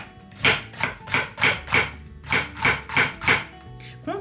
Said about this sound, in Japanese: ゴーヤも薄切りにしたいなと思います